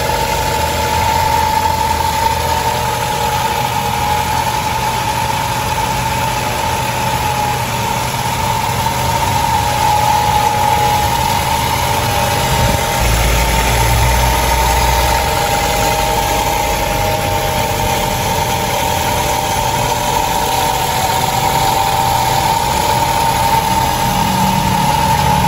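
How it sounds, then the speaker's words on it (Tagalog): A Honda City i-DSI engine idles steadily after a radiator repair, a continuous close mid-pitched hum with faint mechanical ticking and a steady tonal whine throughout, no voices. "napainit sa po natin ang makina po nito"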